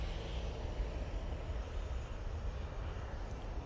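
A Ryanair airliner arriving at Manchester Airport from Copenhagen, a steady broad jet roar that holds evenly throughout, no voices.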